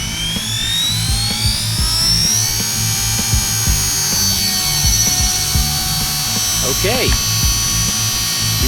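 Heli-Max UH-60 Blackhawk RC helicopter flying in stunt mode, a loud, steady high-pitched whine of motor and rotors that holds throughout with slight pitch swells, while a voice speaks briefly at the start.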